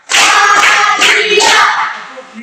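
Loud, close group hand claps from a class of students come in a few quick bursts, counted together as a morning spirit routine before a lesson.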